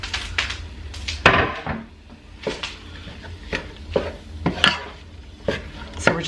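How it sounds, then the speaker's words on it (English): Ground turkey with onions and garlic fries in a pan under a low, steady sizzle. A spoon scrapes and taps through it in irregular bursts, up close with no voices. "So we're just going to cook the turkey until it's nice and cooked all the way through"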